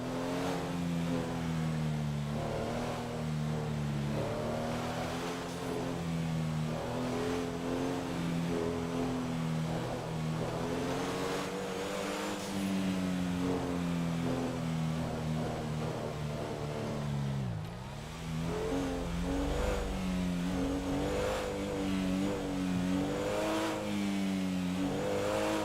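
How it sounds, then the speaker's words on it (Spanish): A car engine in a roleplay driving game revs and accelerates repeatedly, rising and falling in pitch over a sustained loud drone, with one brief dip in the middle and no speech. "El coche lo que hace es más ruido que otra cosa, chaval."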